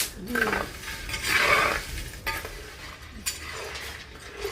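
Turmeric being dry-roasted in a pan for a homemade spice masala, with a utensil scraping and stirring in soft, irregular strokes and occasional light clinks, close by and moderately loud with no talking.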